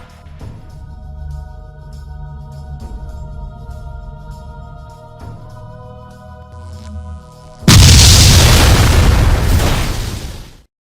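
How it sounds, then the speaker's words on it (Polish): A passage blows apart in a Gothic game machinima, a sudden loud roaring blast that cuts in after quieter background music and rumbles for about three seconds before ending abruptly. "Przejście wybuchło, zabijając wszystkich i zamykając ich ciała za wrotami."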